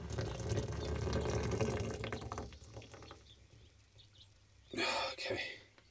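Water is poured in a steady stream into coffee at an island campsite, a liquid pouring and splashing sound under background noise, with a brief louder burst of splashing near the end.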